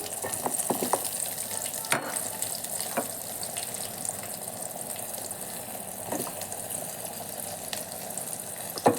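Chopped onions frying in a spluttering tempering for a spinach and green gram dish, with a continuous moderate sizzle, crackling pops and a few utensil clinks near the pan.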